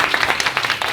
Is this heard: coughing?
no